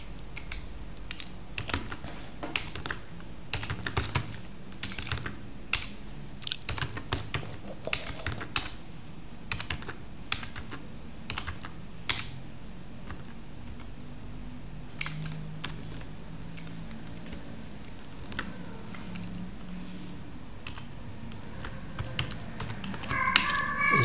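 Someone types steadily on a computer keyboard, close and fairly quiet, with irregular bursts of key clicks and occasional louder taps continuing throughout.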